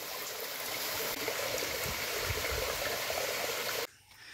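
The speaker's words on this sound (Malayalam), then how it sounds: "ഒരു കാട്ടരുവിയാണ്." A small forest stream in the Kanyakumari wildlife sanctuary in the Western Ghats gives a close, steady trickling rush that suddenly drops away just before the end.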